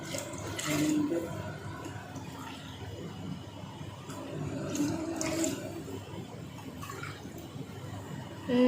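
Water for cooking rice pours and splashes into a pot in a steady gurgling stream, fairly quiet, with small surges and drips throughout.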